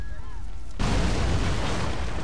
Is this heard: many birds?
no